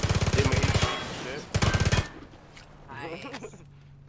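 Two loud bursts of rapid automatic gunfire in PUBG on the Deston map, played on PS5, each lasting under a second, followed by quieter game sounds and a brief voice.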